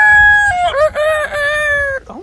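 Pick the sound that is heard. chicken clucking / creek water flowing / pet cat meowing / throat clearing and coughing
chicken clucking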